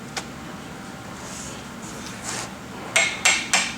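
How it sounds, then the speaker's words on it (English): Three sharp hammer blows strike a Vandersteen Classic speaker cabinet near the end, closely spaced and fairly loud, following a stretch of quiet handling noise and faint scraping. "You can hammer it in, pry it down, and the bottom will break loose."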